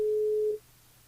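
A single steady telephone tone sounds for about half a second during a call back to a radio show, then cuts off into quiet line hiss.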